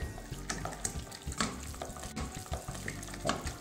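Eggs being beaten into choux pastry dough for éclairs, a wet, sticky slapping and squelching that repeats in uneven strokes at close range, with no voice over it.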